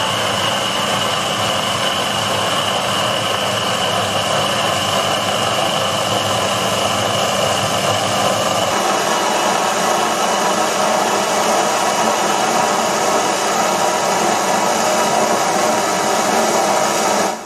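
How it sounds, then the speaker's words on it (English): Proxxon PD 250e lathe turning a shaft with a DCMT insert, a steady loud motor whine with cutting noise, the low rumble dropping away halfway through while the high whine continues, no talk. "so I switched to a DCMT insert with a narrower point and a smaller radius."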